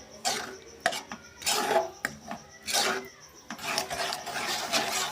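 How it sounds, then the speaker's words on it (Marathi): Vegetables are stirred into a pan of mashed tomato for pav bhaji, giving bursts of scraping and rasping as a spatula works the mixture against the pan, repeated in uneven strokes with brief pauses and no talk. "तर आपण त्यामध्ये भाजी टाकून घेऊया छान चांग मिक्स करून घेऊया आधी"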